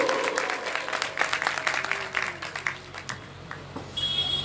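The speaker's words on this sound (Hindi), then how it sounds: "इसलिए उनके लिए जोरदार तालियां हरी बोल।" Scattered applause from a devotional gathering welcoming a guru at a Bhagavatam recitation in Barout, moderate clapping that thins out, with a sustained electronic tone appearing near the end.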